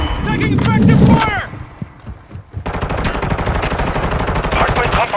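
Gunfire in Call of Duty: Modern Warfare 2: loud, rapid bursts of automatic fire dense through the second half, with shouted voice lines and game sound effects mixed in over the top.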